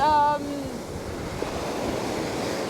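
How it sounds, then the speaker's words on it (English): Waves rolling onto a beach in Vietnam make a steady broadband wash that fills the clip, with a brief tonal, voice-like sound at the very start. "it does have waves right here"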